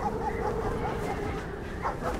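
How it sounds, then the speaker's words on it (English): Dogs bark and yip in a post-apocalyptic video game, a faint, muffled cluster of barks somewhat distant under a low, steady background. "I hear dogs barking."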